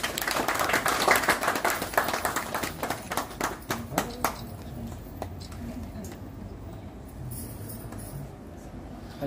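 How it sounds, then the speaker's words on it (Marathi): Audience clapping at the inauguration of a dialysis centre at a rural hospital, a burst of hand claps that thins into scattered claps and fades, with faint voices beneath. "टाळ्या वाजवा।"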